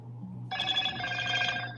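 A landline telephone bell rings close and clear, a single bright ring starting abruptly and sustained over a faint low hum.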